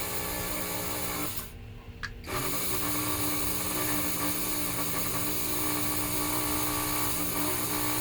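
A 1946-50 Seaboard coal loader model locomotive's electric motor hums steadily at reduced throttle, close and even, with one short dip to near silence early on before the drone resumes.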